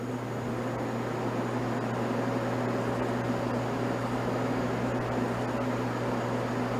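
A fan runs continuously, giving a steady hum with a broad white-noise hiss that stays even throughout.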